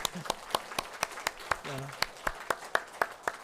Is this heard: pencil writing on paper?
no